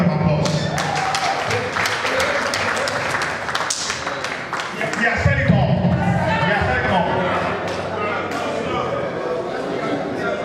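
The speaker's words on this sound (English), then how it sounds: "Honestly, a big round of applause." Audience applause at a class reunion anniversary gathering, sustained clapping from a crowd filling the room throughout, with voices talking over it and some thumps partway through.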